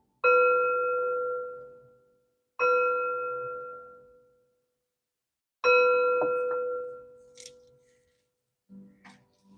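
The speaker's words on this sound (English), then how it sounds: "And 3 chimes to bring in positive energy." Three clear metal chimes are struck one at a time, each ringing out and slowly fading, followed by soft handling clicks in a quiet room.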